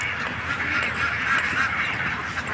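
Many ducks at a large duck farm quack together in a loud, continuous, overlapping chorus with no talking.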